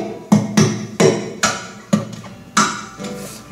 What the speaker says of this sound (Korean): 바디를 때렸을 때 바디 소리가 납니다.